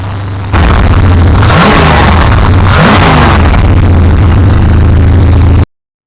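A fuel-injected GM Crossfire V8 in a 1984 Chevrolet C4 Corvette runs at close range, a loud steady idle with a couple of brief rev swells before cutting off abruptly.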